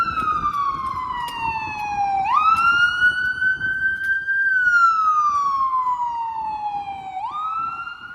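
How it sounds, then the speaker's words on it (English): A wailing ambulance siren sweeps slowly up and down, loud and steady, with faint road noise underneath, in downtown Toronto's Financial District during a polar vortex. "there's an ambulance coming"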